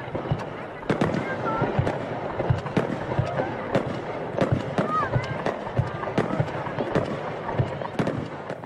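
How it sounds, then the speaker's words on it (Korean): Fireworks launched across Japan for the postponed Tokyo Olympics opening hour crackle and pop in an irregular series of sharp bursts, some near and some distant, over a steady background hiss with whistling trails. "전국 각지에서 일제히 폭죽이 발사되었습니다"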